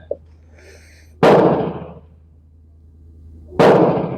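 A Mauser Spanish Civil Guard rifle fires two sharp, loud shots a couple of seconds apart, each a hard crack with a decaying boom, against a quiet background.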